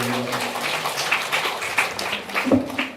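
A temple audience at a Jayanti celebration gives Auntie Lynette a round of applause, a sustained spread of moderate clapping with some voices mixed in.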